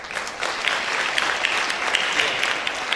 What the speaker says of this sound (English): A big applause for you all.